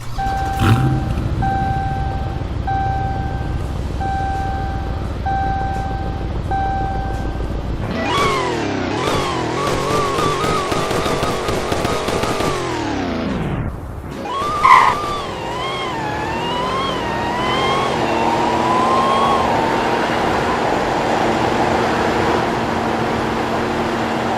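A synthetic engine of a car in a video game idles with a steady tone, then revs up hard through rising and falling gear shifts, ending in a sustained high-pitched roar.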